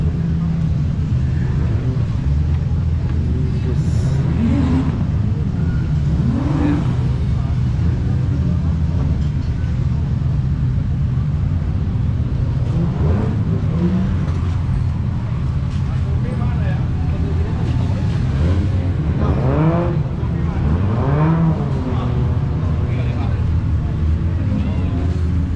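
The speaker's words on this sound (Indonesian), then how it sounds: "Ini adalah kawasan dari drift, motor-motor drift ya, teman-teman." Drift cars at an indoor motor show in Jakarta, with engines droning and revving in rising and falling sweeps over a steady low rumble of a busy hall, voices talking throughout.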